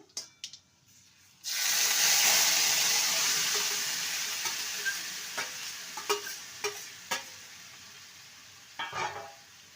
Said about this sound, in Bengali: ফোড়নটা ভাজা হয়ে গেলেই গ্রেট করা লাউটা দিয়ে দেবো